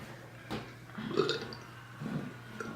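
A person burping during a soda burping challenge, a few short guttural belches close up against quiet room tone.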